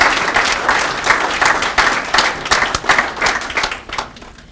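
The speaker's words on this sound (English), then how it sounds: "So if you could give me one more round of applause for our winning students." Audience applause at a Ford AAA student competition awards event, loud and sustained clapping from a crowd that tapers off toward the end.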